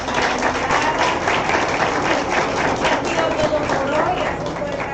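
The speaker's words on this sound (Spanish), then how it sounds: "vamos a dar un fuerte aplauso" An audience applauds at the close of a teaching-methods discussion on flipped classrooms, a steady, dense clatter of clapping with some voices mixed in.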